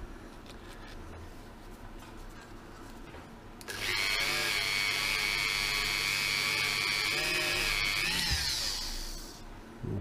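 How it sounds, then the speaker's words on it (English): A power tool porting the fork tubes of a Ducati 900SS bevel motorcycle during restoration: a steady high-pitched whine starts abruptly after a quiet stretch and runs for about six seconds before winding down. "I'm porting the forks."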